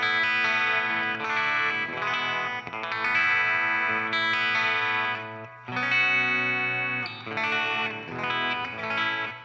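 Electric guitar through a Rockman compressor with high input gain, a heavily sustained, chorused, distorted tone playing sustained chords and melodic phrases, close and loud with no talking.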